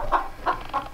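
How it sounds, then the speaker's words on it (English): A farm rooster clucks close by in three short, rhythmic bursts within a second, alone with no voices. "That rooster right there, Fluffy Foot, we call him."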